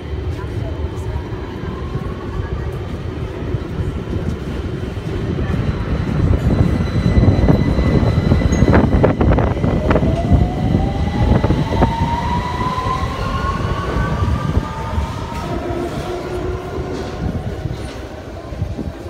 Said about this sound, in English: Please stand back away from the train while it's pulling out.